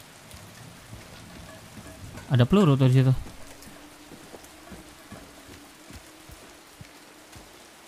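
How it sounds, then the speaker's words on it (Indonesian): Steady rain falls in the video game Silent Hill 2 Remake, a constant soft hiss with scattered patters, while someone briefly speaks over it. "Wah, hujan lagi."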